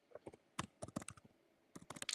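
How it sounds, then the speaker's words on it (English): Someone types on a computer keyboard, a faint, close run of irregular clicking keystrokes with a brief pause midway before another quick burst. "he's typing. I can hear him typing"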